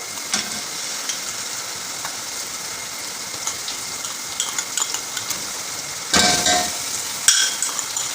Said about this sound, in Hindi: तो ये टमाटो पेस्ट है जो, ये हम ऐड कर लेंगे इसके अंदर।